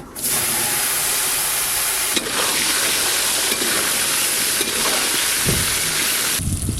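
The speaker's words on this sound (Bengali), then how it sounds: "নুন হলুদ মাখানো আলুগুলো বেশ ভালো করে ভেজে নেব" Potatoes coated in salt and turmeric fry in hot oil, giving a loud, steady sizzling hiss that fills the whole stretch with slight surges, heard close up without talk.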